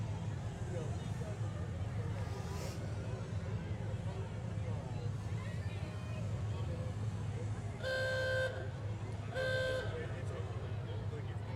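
Two bright, tonal blasts from the unusual horn of a vintage truck rolling through a Christmas parade in Somerset-Pulaski County, sounding over constant engine rumble and crowd bustle, with people talking nearby.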